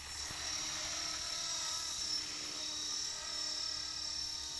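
A DS 520 RC model helicopter flies outdoors, a steady high-pitched whine of its rotor and motor held at an even, moderate distance throughout.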